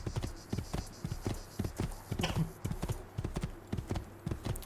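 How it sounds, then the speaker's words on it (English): Horse hooves clip-clopping in the game Assassin's Creed II, a steady, rhythmic trot of close, crisp hoof beats continuing throughout without talk. "I just need to borrow this horse."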